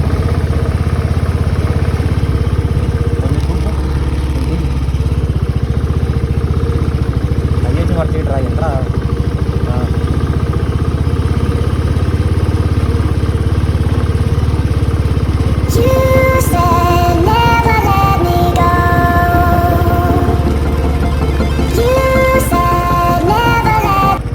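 A motorbike engine drones steadily on the Yercaud hill road, running continuously under someone talking throughout, with some tonal beeps or chirps later on.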